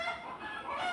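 A short burst of chicken clucking nearby, a single raspy fowl call lasting about a second with no voices.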